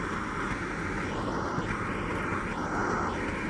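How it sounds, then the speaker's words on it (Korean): Steady airplane engine drone from a video game, a continuous broadband roar held at even loudness throughout with no voice over it. "그 비행기 소리 시끄러워요."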